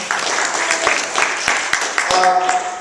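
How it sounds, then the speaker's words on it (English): Seminar audience applauding indoors, a moderate burst of clapping with a few sharper individual claps standing out, mixed with faint voices. "Give her a big round of applause."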